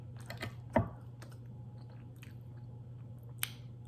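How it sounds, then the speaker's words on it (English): Someone eats crusted chicken parmesan, with faint close-up chewing and one crisp bite near the start, then soft mouth sounds at low volume. "So I am gonna keep eating it, but I get kind of full fast."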